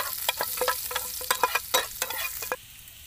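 Garlic frying in hot oil for a seafood tamarind dish, with crackling sizzle and repeated stirring scrapes in an uneven rhythm that stops abruptly near the end, close and fairly loud.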